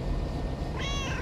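A cat meows once in the video game Lake, a short clear call near the end over a steady background hum of game ambience.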